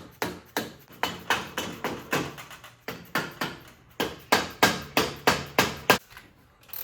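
Light, even hammer taps drive studs into a rebuilt Mazda 13B rotary engine block, a steady series of sharp metallic knocks in quick runs with brief pauses between them.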